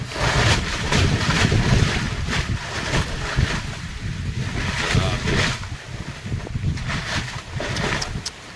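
Strong Typhoon Uwan winds roar and gust in uneven surges, buffeting the microphone loudly and close, with intermittent talking underneath.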